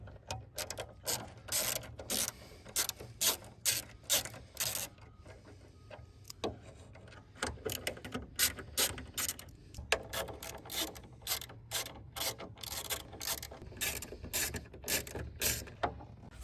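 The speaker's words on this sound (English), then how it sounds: "We need a T20 torque driver. 1, 2, and 3, and 1, 4 on the top. So we're going to remove these." A T20 Torx driver backs screws out of a Mercedes hood air vent grille cover, making rapid close ratcheting clicks in repeated bursts with brief pauses between screws, and no speech.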